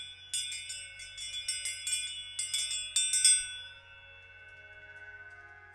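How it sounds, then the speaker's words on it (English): A small bell rung repeatedly in quick, bright strikes, then left to ring on and fade softly into silence. "As you hear my bell ring"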